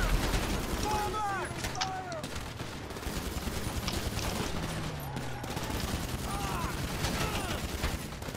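Rapid bursts of video-game gunfire in a first-person shooter, dense and continuous under game ambience, with occasional faint voices and effects mixed in.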